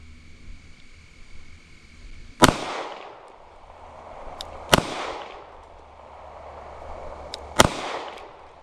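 Three sharp, loud gunshots from an S&W Bodyguard 2.0 pistol at an outdoor target range, spaced a few seconds apart, each with a short ringing decay.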